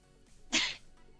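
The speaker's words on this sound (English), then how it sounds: "That was obviously that was my dad who sneezed, not me." A man sneezes once, a single short sharp burst in a quiet room, fairly close and loud against faint background.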